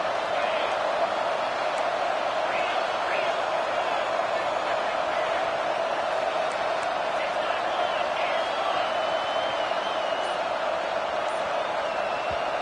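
Stadium crowd in College Football 26, North Carolina at Miami, a steady loud roar of massed voices and cheering that holds unbroken throughout.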